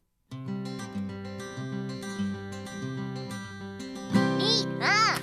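A six-string guitar picked note by note in a steady melodic line, clear and close, with a few bright higher sounds joining near the end.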